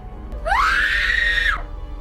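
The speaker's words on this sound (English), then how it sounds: "Soo-yeon screams" A woman in a horror film lets out a single piercing scream, rising sharply, holding at a high pitch for about a second, then breaking off abruptly.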